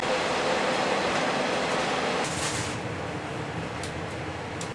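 Inside a train halted at a standstill while waiting for platform clearance, a steady broadband rumble and ventilation hum fill the carriage, with a brief hiss partway through and no one speaking.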